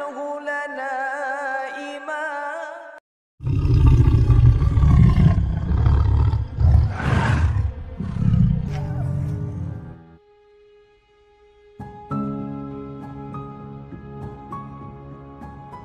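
A tiger roars loudly with deep, growling bursts between stretches of dramatic musical tones, with a short silence in the middle and no voices.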